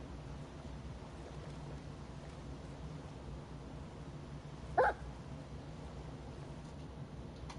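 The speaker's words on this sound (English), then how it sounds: "Yeah, it's your dog. Very loud." A single short dog bark sounds once, fairly loud against a quiet, low hum, with nothing else happening before or after.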